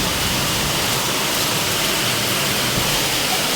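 Heavy rain pouring down in a dense, loud, unbroken hiss that stays level for the whole stretch, with no voices over it.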